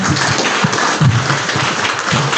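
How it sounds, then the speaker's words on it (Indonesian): Applause breaks out in a corporate presentation on mosque and prayer-room management, a steady, dense wash of clapping from a crowd, loud and continuous for a couple of seconds. "Tepuk tangan boleh"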